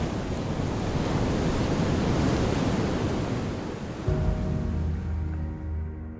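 Surf rolls and breaks on an empty Pacific Ocean beach, a loud continuous wash of waves with wind noise, easing off near the end.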